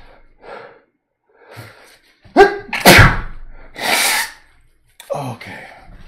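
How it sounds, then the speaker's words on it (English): A single loud sneeze preceded by a few sharp breaths and gasps, close and clear in a quiet room, followed by a short exhale. "I think, I'm going to sneeze again."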